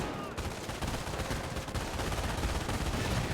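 Dense, continuous machine gun fire in Company of Heroes, with MG42s and a scoped rifle squad engaging, forming a loud, steady battlefield din of overlapping gunfire throughout.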